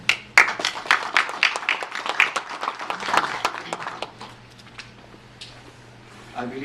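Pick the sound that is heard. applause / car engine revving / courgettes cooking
applause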